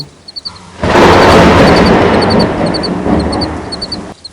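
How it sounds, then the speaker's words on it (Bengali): A loud, close thunderclap rolls in after a short lull and rumbles on for about three seconds before fading, set in a village horror tale near a cremation ground. "ঠিক তখনই খুব কাছেই একটা জোরে বাজ পড়ল"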